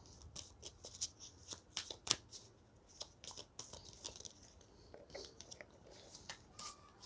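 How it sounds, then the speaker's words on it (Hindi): Tarot cards being shuffled by hand, a close, quiet series of crisp riffling and slapping snaps in irregular bursts, with no talking. "मैं वापस शफल करूँगी"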